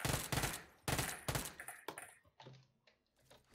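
Bursts of gunfire in PUBG Mobile, a few loud rapid volleys up close followed by sparser, quieter shots and clicks trailing off.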